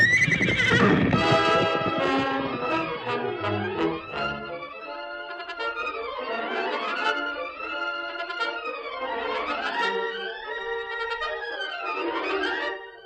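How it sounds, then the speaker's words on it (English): In a Lone Ranger radio drama, a horse gives a long, loud neigh and whinny with snorts and clip-clop of hooves, up close and heard alone with no talk. "That horse is going for him."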